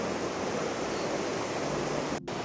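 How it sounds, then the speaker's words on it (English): A waterfall's lower section roars with a continuous, loud broadband rush of falling water, steady throughout with only a brief dip near the end. "Now we came to the lower part of the waterfall."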